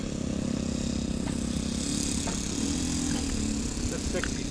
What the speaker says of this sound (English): Nice four-stroke motor,